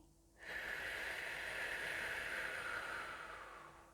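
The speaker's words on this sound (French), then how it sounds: "on souffle comme à travers une paille" A slow, steady exhalation through pursed lips as if through a straw during a sophrology breathing exercise, a close hissing stream of air lasting about three seconds before fading.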